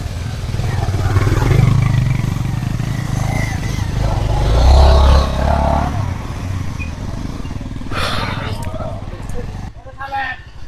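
Motorcycle climbing a rough, unpaved stepped hill road in Rangamati's hill tracts, engine droning and labouring close by with rattling and scraping of the bike over uneven ground, while people talk over it.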